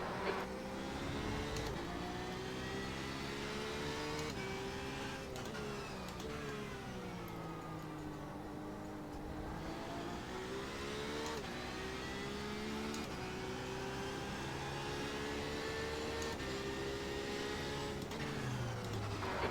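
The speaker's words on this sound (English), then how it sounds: "There's a faster class car approaching." Engines of Porsche 911 RSR and other race cars at Interlagos in an iRacing sim race, a steady loud drone of revving and shifting with a faster-class car closing from behind and passing, continuous throughout.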